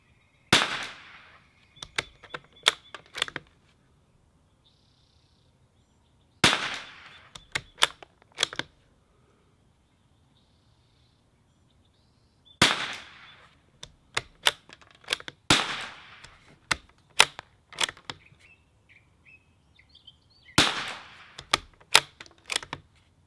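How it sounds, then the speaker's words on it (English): .38 pistol fire at an outdoor shooting range, with sharp, close cracks coming in five separate strings of several rapid shots each, separated by quiet gaps and with no talking. "I'm going to head over to the pistol side, because I want to shoot my .38."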